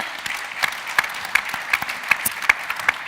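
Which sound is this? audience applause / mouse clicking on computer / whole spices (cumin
audience applause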